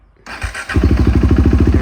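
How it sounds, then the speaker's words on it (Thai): A 2014 KTM Duke 390 motorcycle with about 31,000 km on it starts after a short quiet moment. A starter whir leads into the engine catching, then it settles into a loud, close, steady single-cylinder idle with a regular throbbing pulse. "มาสตาร์ทฟังเสียงเครื่องยนต์กันนะครับ"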